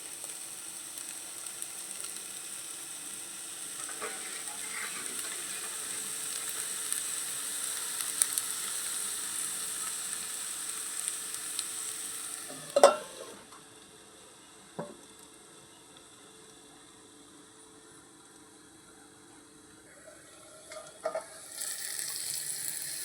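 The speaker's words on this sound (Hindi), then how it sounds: "अब 2-5 मिनट हम ढक के इसको पकाएंगे।" Capsicum with spices fries in a pan under a lid, giving a faint, steady sizzling hiss with a few sharp clinks and knocks of utensils partway through; no one speaks.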